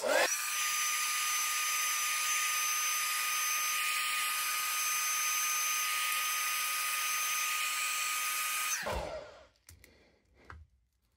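A heat gun runs with a loud, steady high-pitched whine and airflow roar for about nine seconds while warming G.I. Joe Classified action figure joints, then cuts off, leaving faint handling clicks.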